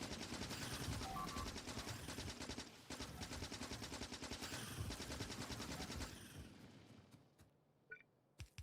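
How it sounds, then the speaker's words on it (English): Quiet, steady rapid machine gun fire in the Factorio video game, shooting biters, running continuously for several seconds before fading into a few scattered faint clicks. "Oh, let's make sure we select this machine gun."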